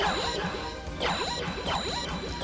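The Rune Sword thrown in the video game Castlevania: Symphony of the Night, a loud electronic swishing crash repeating about three times in a quick steady rhythm, with no talk.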